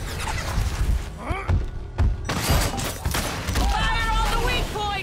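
Gunfire aimed at a monster in the video game Evolve, scattered bursts and thuds mixed with overlapping voices, game effects and chirping sounds at moderate loudness throughout.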